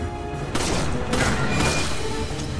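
Bursts of gunfire and heavy impacts in the Resident Evil 5 finale, a volley of shots with booming thuds over a dense, constant game soundscape, moderately loud.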